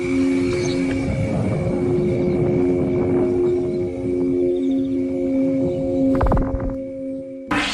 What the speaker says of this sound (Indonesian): suara yang dihasilkan dari Aeolian harp ini mengandung unsur misteri